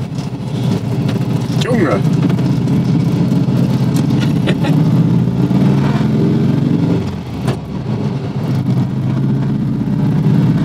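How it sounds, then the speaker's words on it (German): Petrol engine of a VW T1 Bulli, with intake noise drawn in at the rear, hums and roars steadily and loudly throughout, dipping briefly near the end, while people talk and one voice calls out over it. "Ah, ein richtiges Ansauggeräusch von hinten."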